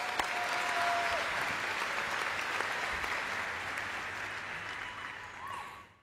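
Sustained applause from a commencement ceremony audience, steady and dense for about five seconds before slowly tapering off, with occasional faint crowd noise underneath.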